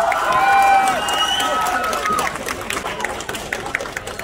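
An audience at a Nepali Dashain-Tihar concert in Harrisburg claps and cheers to welcome a singer onto the stage. The sound is loud and dense at first, then thins into scattered claps with crowd murmur.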